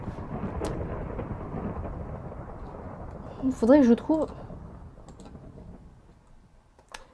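Rain and rolling thunder from the video game Minecraft, a steady wash of rainfall with thunder rumbling through, while a person talks over it and a few clicks sound near the end.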